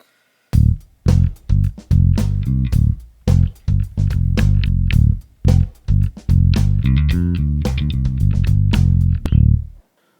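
Electric bass plucked with the fingers through a SansAmp Bass Driver pedal set with treble boost, a loud, gritty run of punchy notes with short pauses between phrases, close and alone.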